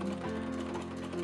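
An antique treadle sewing machine runs at a steady pace, a quiet continuous mechanical whir and clatter with a faint rhythmic knock.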